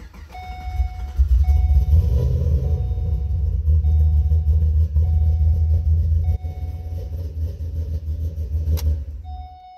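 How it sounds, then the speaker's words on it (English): A car engine cranks, rumbles to life and idles steadily while a repeating electronic chime beeps over it, then the engine cuts off near the end. "crank the vehicle."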